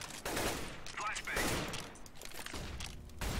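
Rapid gunfire in a shooter video game, bursts of shots crackling through most of the clip at fairly steady loudness, with a voice talking over it at moments.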